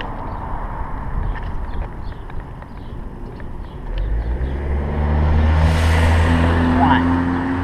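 A car passes on a road during a Sunday morning walk, its engine swelling from quiet into a loud, close rumble over the last few seconds, following a stretch of quieter outdoor noise with footsteps.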